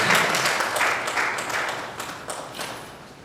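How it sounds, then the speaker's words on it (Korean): A church congregation applauding together during a service, a dense wash of clapping that holds steady for a few seconds and then gradually thins and fades, heard at a middle distance in a reverberant hall. "우리 박수로 자녀들을 축복하며 드리겠습니다."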